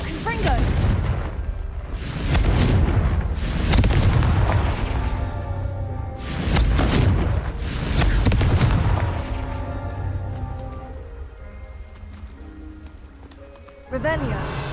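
Repeated Confringo fire-spell explosions from Hogwarts Legacy boom in close succession, four or five heavy, rumbling blasts with crackling tails, followed by a quieter lull and one more sharp burst at the end.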